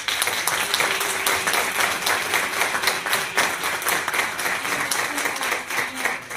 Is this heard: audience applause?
yes